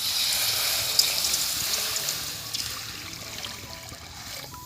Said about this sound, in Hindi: अब रखते हैं चूल्हे के ऊपर कढ़ाई और इसमें डालते हैं 1 लुट्ठा पानी।